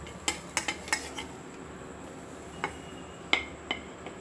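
A crispy homemade dosa is shifted onto another plate, giving a handful of light clinks and scrapes of plate and utensil spread across a few seconds in a quiet kitchen.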